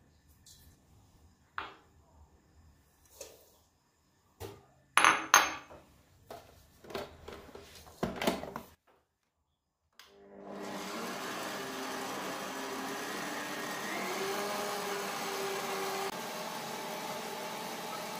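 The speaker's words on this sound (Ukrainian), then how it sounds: "Збити яйця з дрібкою солі і цукром до світлої пишної маси." Eggs are beaten with a pinch of salt and sugar by an electric mixer: a steady, loud whirring drone starts partway through and runs unbroken to the end, after a stretch of sparse clicks and clatter.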